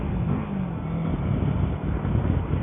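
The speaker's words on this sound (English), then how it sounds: "The exhaust sounds really nice though. For being a stock exhaust, it's got a deep gargle to it." A 2022 Kawasaki Versys 650 motorcycle on its stock exhaust rumbles steadily at low pitch while riding, a deep, close drone mixed with rushing wind noise.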